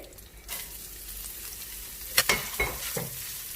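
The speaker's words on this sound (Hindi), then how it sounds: "अब हम इसमें वेजिटेबल्स ऐड करेंगे।" Julienned carrots frying in ginger garlic paste, a soft continuous sizzle that swells as they hit the pan, followed by a few sharp clinks and scrapes of stirring.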